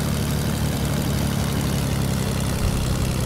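A propeller plane engine in a video game drones steadily and continuously, a dense rumbling hum with a low throb that stays even and fairly loud throughout, with no voices over it.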